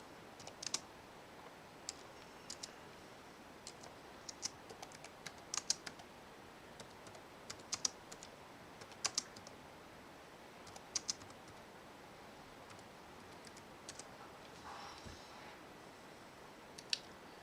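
Quiet keystrokes tap on a computer keyboard in irregular bursts of clicks with short pauses between them.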